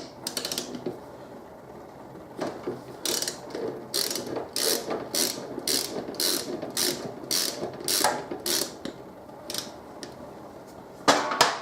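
Ratchet wrench undoing the last bolt on a modified Harley Davidson Deuce motorcycle, a close, steady series of rapid clicking bursts in a regular back-and-forth rhythm.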